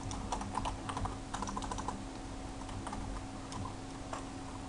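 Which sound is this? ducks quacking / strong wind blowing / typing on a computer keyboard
typing on a computer keyboard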